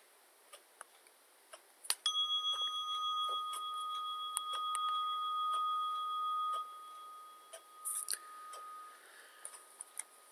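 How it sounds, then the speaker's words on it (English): A meditation bell rung once, a clear bright chime with a long, pure ringing tone that sustains for several seconds and slowly fades, set against a quiet room with faint ticks and clicks and no talking. "At the sound of the bell, we'll begin."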